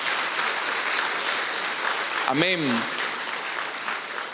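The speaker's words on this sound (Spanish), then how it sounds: "Démosle fuertes ofrendas de palmas a nuestro Dios" Church congregation applauding, a steady dense wash of clapping throughout with a single voice briefly speaking over it midway.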